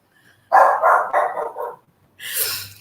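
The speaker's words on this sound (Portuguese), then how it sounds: "Gente, é o meu cachorro, desculpa." A dog barks four times in a quick, loud run close by, then pauses before a further burst of rough, higher-pitched barking.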